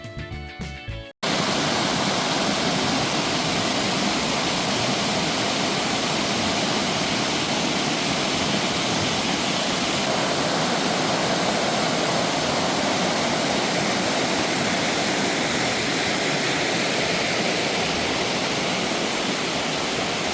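Hebbe Falls, a forest waterfall, roars in a loud, steady broadband rush that fills the whole stretch after a brief quieter opening, close and unbroken with no voices.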